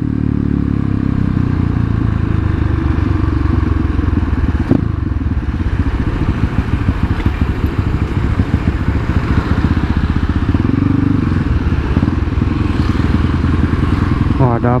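A Kawasaki KLX with a 248 cc bore-up engine accelerating hard and popping a wheelie, with a loud, steady, rough engine drone close to the mic and a voice briefly heard over it.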